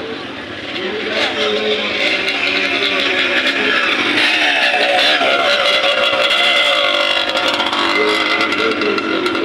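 Motocross motorcycles at a motocross contest rev and whine loudly, pitch rising and falling, with voices talking over the engine noise.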